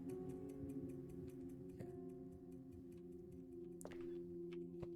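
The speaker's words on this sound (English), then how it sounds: "This clock is like ticking." A steady, even clock tick repeats through the full span inside the video game Weird Mister Bogot, playing over a low humming game ambience, with a sharp clack near the end and no talk.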